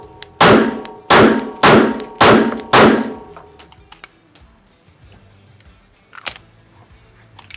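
A Rost Martin RM1C pistol fires five loud, sharp shots in quick succession, each with a short ringing tail, followed by quieter metallic handling clicks.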